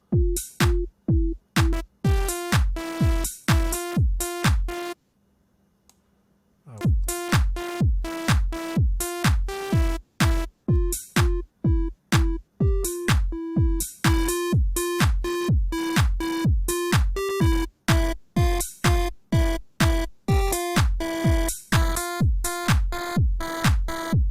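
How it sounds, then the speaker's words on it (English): A synthesizer plays a long run of short, evenly spaced MIDI notes, its waveform changing so the tone shifts from bright buzzy to softer timbres, with a brief pause midway. "this synthesizer is going to play these MIDI notes"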